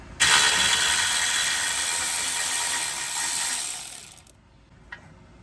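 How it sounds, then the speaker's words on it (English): A ratchet loosens a 13 mm nut on a brake hose bracket on a RAM 1500 front brake, giving a loud, continuous close-up whir for about four seconds, then stopping with a short click. "I'm now going to take the nut off here on the bracket for the soft line."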